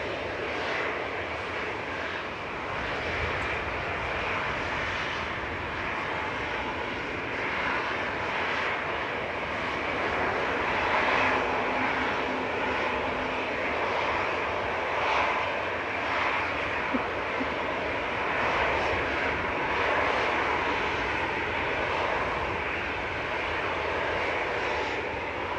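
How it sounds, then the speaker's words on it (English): A 14-year-old Boeing 737-800 jet at Manchester Airport gives a loud, steady, broadband engine roar that holds for the whole stretch with little change in level, heard from the spotting area with no talk. "it's a 14-year-old 737-800"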